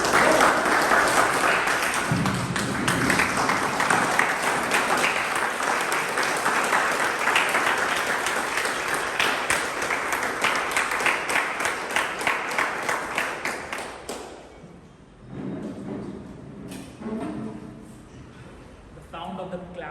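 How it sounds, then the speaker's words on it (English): An audience at a speaking club meeting breaks into sustained applause after a speech, full and even for about fourteen seconds before fading into a voice talking. "sound of the claps says it all actually"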